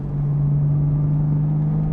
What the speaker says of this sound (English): then we'll really show you guys how this car sounds. The valves open